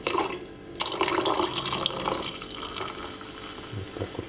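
Grapefruit Schweppes soda poured into a glass over ice from the freezer, a steady close fizzing, splashing liquid stream lasting throughout, with no talk.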